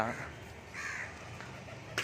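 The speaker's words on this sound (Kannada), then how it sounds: "ಇವತ್ತು ಯಾಕೋ ಕಾಗೆಗಳ ಕಾಟ" A crow caws once or twice in the distance over a quiet outdoor background, while a person talks nearby.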